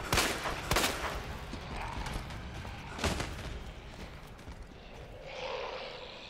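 Gunfire in the Resident Evil 2 video game: a few sharp, booming shots, two close together at the start and another a few seconds later, over a low rumbling game ambience.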